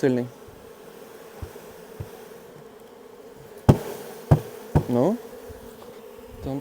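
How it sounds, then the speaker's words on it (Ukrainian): Steady buzzing of a honeybee swarm hums throughout, dense and continuous like many bees close by, with a few sharp knocks and clunks breaking in near the end. "тут чути багатько бджоли"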